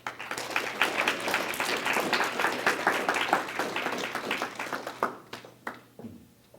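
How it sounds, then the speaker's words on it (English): An audience at a gathering on Ferguson, faith and democracy claps to welcome a speaker, a lively mix of many hands with sharp individual claps standing out, then thinning into scattered final claps and fading near the end. "Give him a hand clap"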